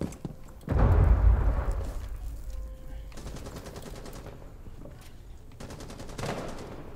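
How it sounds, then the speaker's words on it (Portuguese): Bursts of rapid gunfire and a loud blast, heavy and close, followed by scattered shots and rumbling from the video game Rainbow Six Siege. "Cuidado aí que estão te dando tiro daqui"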